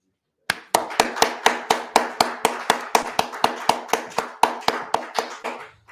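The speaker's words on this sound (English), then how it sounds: "give a round of applause for our founder" Rhythmic hand claps in a steady beat, about twenty sharp strikes spaced evenly, close and crisp with no talk, following a call for applause for a founder.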